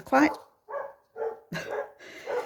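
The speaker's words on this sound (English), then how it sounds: "Someone's got a dog outside. I bet you can hear it." A big dog barks outside, five loud sharp barks in an irregular rhythm, fairly close and clear against a quiet background.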